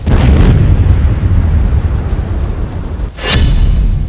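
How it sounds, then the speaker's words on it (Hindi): Loud, sustained bomb explosion effect with a deep, rumbling roar that fills the whole stretch, briefly dipping before a second sharp burst near the end. "अगर इन शहरों पर बम गिरा तो क्या होगा?"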